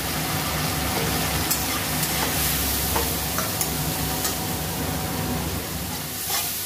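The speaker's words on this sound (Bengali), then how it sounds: "জিরে গুঁড়ো দিয়ে আমি ভালো করে কষে নেব" Cabbage and potato curry with turmeric, chilli and cumin powder sizzles in a pan as the spices are sautéed, a steady close frying hiss with occasional stirring scrapes and no talking.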